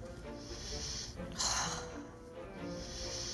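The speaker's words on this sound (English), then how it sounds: "You sniff that stuff?" Someone takes a few sharp, close sniffs of bedsheets washed with fabric softener, one snort standing out midway, with quiet voices in the background.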